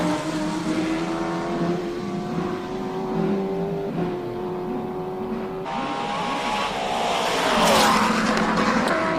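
A loud 5-litre Shelby Can-Am race car engine roars steadily at a hillclimb, rising in pitch as it accelerates hard, with a brief shift midway and a faint tire squeal.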